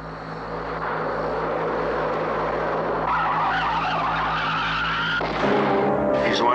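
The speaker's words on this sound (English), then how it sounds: "that's what I heard just before the tire blew out" A car's tires skid in a film sound effect as a tire blows out, a long sustained screech over a droning engine-like rumble that swells loud and shifts sharply near the end.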